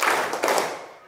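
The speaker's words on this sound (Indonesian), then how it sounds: "Kurang kompak, tepuk 2." A class of junior high school students clap hands together in a rhythm exercise, giving a short burst of loud, slightly uneven group claps that sound somewhat out of sync.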